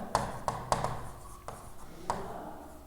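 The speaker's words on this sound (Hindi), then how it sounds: "एक सेंटेंस दोस्तों लिखते हैं" Chalk or marker taps and strokes out a sentence on a classroom board, a handful of sharp, close clicks and short scratches spaced irregularly with quiet gaps between.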